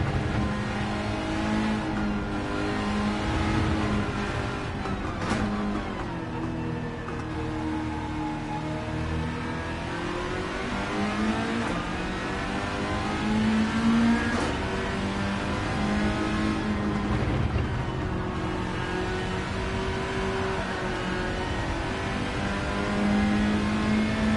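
Mazda MX-5 ND with a swapped engine in Gran Turismo 7, revving steadily under throttle with rising and falling engine tones that hold for over twenty seconds, loud and continuous with no voices.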